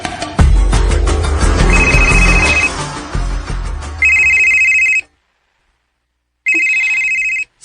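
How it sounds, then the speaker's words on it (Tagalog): A telephone rings with an incoming call, its bright electronic trill sounding in repeated bursts, first over a busy, rumbling background and then almost alone, with a silent gap between the last two rings. "Si Ian kining nanawag"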